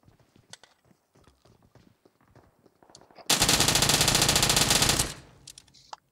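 A continuous burst of rapid automatic gunfire in PUBG, lasting nearly two seconds, loud against quieter clicks and movement sounds before and after.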